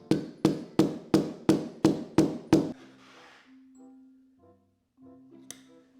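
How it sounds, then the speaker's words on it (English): A hammer drives a bolt into a homemade steel weight sled with eight sharp, evenly spaced metallic strikes up close, followed by a faint low hum and a single small clink. "I'm probably gonna have to blast this thing in with a hammer."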